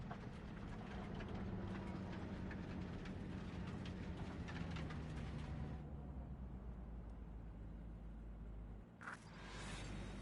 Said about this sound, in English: maybe we should just hijack the train